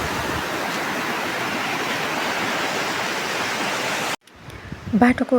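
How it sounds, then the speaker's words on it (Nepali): Steady rushing, gurgling flow of a mountain stream in Dolpa, Nepal fills the clip, loud and continuous, then cuts off abruptly near the end as a voice begins. "यो चाहिँ कलकल पानी"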